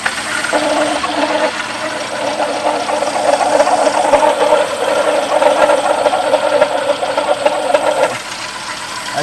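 A 2014 Dodge Journey AWD SXT engine started and left idling in a garage during crank pulley and harmonic balancer repair, a steady loud mechanical hum and rumble that drops slightly near the end.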